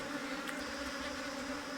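Honeybees from two swarms merged into one colony hum in a steady, low buzz, with individual bees droning close by against the continuous background of the cluster.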